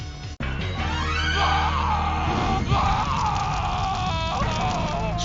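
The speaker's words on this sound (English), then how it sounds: "screaming in fear." A video game opponent in Mortal Kombat shrieks in fear during a Scorpion fatality, a loud, sustained, wavering scream lasting several seconds after a sharp impact, layered over a dense dramatic sound effect.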